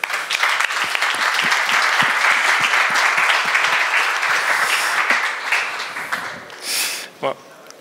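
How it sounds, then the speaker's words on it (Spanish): Conference audience applauds steadily as a bank's architecture lead walks onto the stage at a hybrid cloud event, dense clapping that thins and fades out near the end as a voice begins. "Un aplauso, para"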